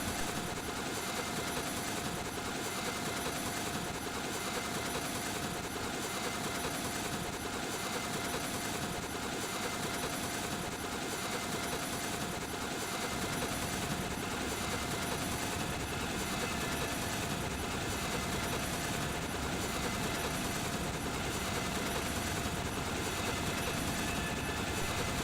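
An old UH-1 helicopter in the FlightGear flight simulator game, its rotor and engine droning in a steady, loud, unbroken pulsing whir throughout with no talk.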